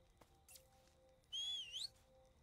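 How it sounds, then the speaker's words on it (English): A whistle used to lure an enemy in Stargate: Timekeepers, one clear rising and dipping tone lasting about half a second over quiet game ambience, preceded by a faint short chirp. "Now we'll whistle, draw him in."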